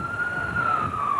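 A steady, loud wail from an ambulance siren sounds close by. It holds a single sustained tone through the short stretch, alone, with no voices.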